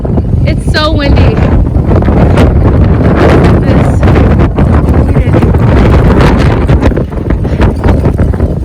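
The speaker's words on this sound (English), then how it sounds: "The wind is crazy right now" Strong wind roars and buffets the microphone on the Breakneck Ridge mountain trail, a loud, continuous gusting rush that lasts throughout with some rustling mixed in.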